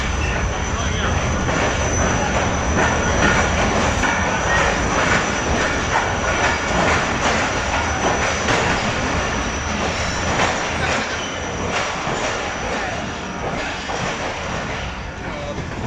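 Shalimar Express passenger train running at low speed through a station in Pakistan, a steady loud rumble of wheels and rail noise with faint squeals, continuous throughout.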